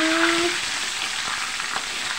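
Steady, loud sizzling of tilapia frying in hot oil, with crackling pops throughout; a brief tonal hum fades at the start.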